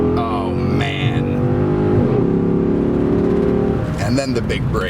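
A Chrysler 300 SRT8 engine revs and accelerates hard, a loud, steady drone from inside the car that swells near the end, with engine noise filling the whole stretch.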